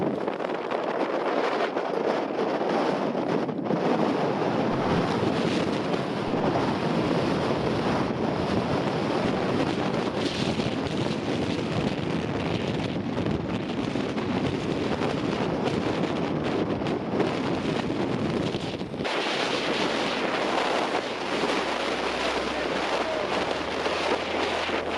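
Strong wind gusting up to 32 knots at a boat anchorage roars in a steady, loud rush, with wind buffeting the microphone throughout and a brief lull before the gusts resume.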